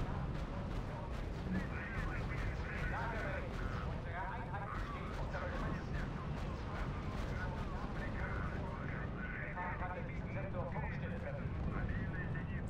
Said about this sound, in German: Die Artillerie ist nämlich echt penetrant von dem Gegner